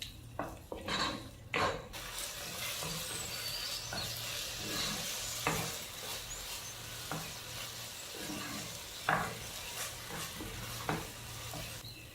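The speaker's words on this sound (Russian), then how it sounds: "Обжарить томатную пасту в течение 5 минут, постоянно помешивая" Tomato paste frying and sizzling in a pan with a steady hiss, stirred constantly, with several sharp scrapes and clinks of a utensil against the pan at irregular intervals.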